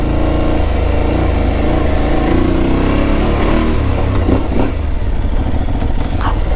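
An Aprilia Tuareg 660 motorcycle engine revs loudly and steadily up close, its deep rumble rising and falling, with a clattering mechanical edge and no talking.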